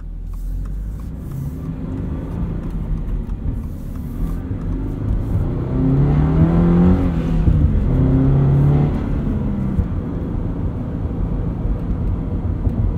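A Toyota GR86 / Subaru BRZ in Sport Plus throttle mode rumbles along as it is driven, its engine note steady and close, then swelling louder mid-clip as it revs before easing back to a constant drone.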